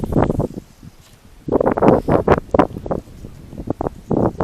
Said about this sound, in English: Man, the wind's picking up.